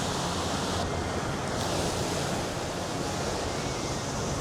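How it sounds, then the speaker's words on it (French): Ocean waves wash steadily onto the shore during shore fishing, a loud, continuous rushing surf with no breaks and no voices. "Après il y a des vagues"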